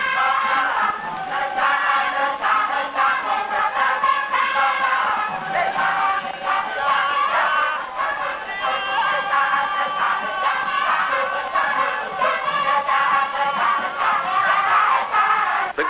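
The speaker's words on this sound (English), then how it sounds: "The crowd gets more and more excited watching the play" A large village crowd at an open-air Balinese legend play in 1950s Bali roars and shouts with excitement, a dense, continuous wall of many voices at constant loudness for the whole stretch.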